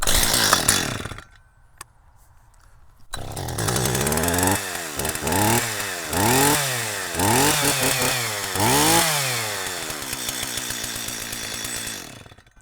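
An older Stihl chainsaw sputters and briefly cuts out, then starts up again. It runs loud and close through a series of rhythmic revs, each rising and falling, before settling to a steady high idle.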